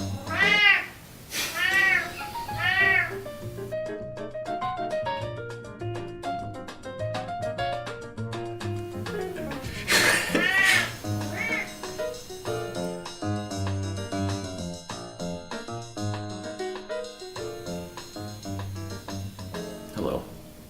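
A cat meows repeatedly in an old house in Atlanta, Georgia, its rising, wavering cries standing out over a steady background of music and other sound.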